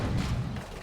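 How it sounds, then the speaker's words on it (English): A unit dies in an explosion in the Warhammer 40,000: Dawn of War 2 strategy game, heard as a brief, dense, booming blast of noise filling the short moment. "Big explosion on death from that global ability."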